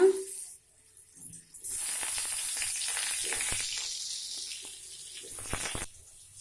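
Sliced potatoes drop into hot refined oil in a pan, bursting into a loud, hissing sizzle that holds steady for several seconds with crackling pops, then fades after a quieter start.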